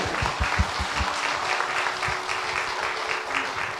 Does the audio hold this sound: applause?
yes